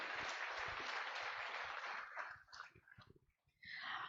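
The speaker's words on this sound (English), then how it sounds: "Let's have a big round of applause once again," Audience applause at the listing ceremony for Danish Power Limited, a dense wash of clapping from a crowd that thins and breaks into scattered claps before swelling again.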